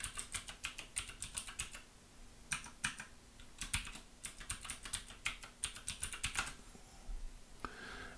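A root password is typed on a computer keyboard, soft rapid key clicks coming in irregular bursts with brief pauses, close and quiet with no talking.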